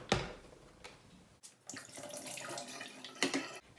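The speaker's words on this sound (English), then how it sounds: "And now we want to empty the water tank." Water poured out of the tank of a Kmart garment steamer into a sink, starting with a short splash, then a steady gushing pour after a brief pause, close and moderately loud.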